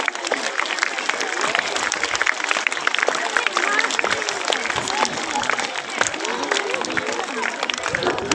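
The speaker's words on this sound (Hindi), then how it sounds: "इन बच्चों के लिए जोरदार तालियां।" Sustained applause from a school audience for pupils honoured for strong monthly test results, dense steady clapping with some crowd noise filling the whole stretch.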